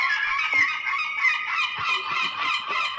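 Seagulls squawking in a room, loud overlapping harsh cries pulsing in quick succession, close and continuous, with no talking.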